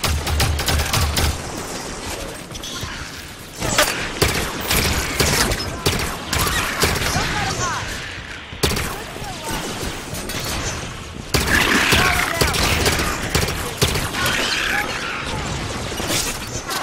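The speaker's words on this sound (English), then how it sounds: "Taking fire from the ledge." Sustained gunfire in the Halo 5: Guardians campaign, dense bursts of automatic weapons and shots with occasional crashes and booms, loud and continuous throughout with brief dips in intensity.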